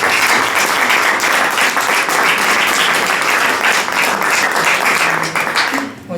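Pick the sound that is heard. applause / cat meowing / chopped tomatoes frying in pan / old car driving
applause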